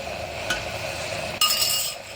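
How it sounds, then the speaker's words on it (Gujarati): Garlic potato curry with spices being stirred in a pan, giving soft scraping and a couple of light metallic clinks of a spoon against the pan over a faint steady sizzle. "બધું હવે મિક્સ કરી દઈશું."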